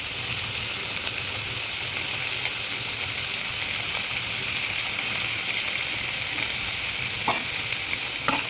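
Curry leaves and garlic crackle in hot oil in a pan while being stirred, making a continuous, even sizzle with occasional faint clicks of the spoon against the pan.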